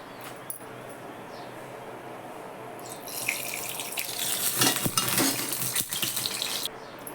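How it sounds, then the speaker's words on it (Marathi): Hot tempering of cumin and mustard seeds goes into chutney in a pan, bursting into a loud hissing sizzle after a quiet start, then dying away near the end. "चटणीला आधी फोडणी घालून घेते"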